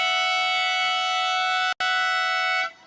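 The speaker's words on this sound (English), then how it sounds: "those half-time and full-time sirens are loud" A loud, steady half-time siren at a canoe polo match in Saint Omer, France blares with a sustained tone, briefly cut out once, then continues before fading at the end.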